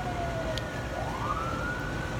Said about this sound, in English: like, I'm sorry, just the ambulance.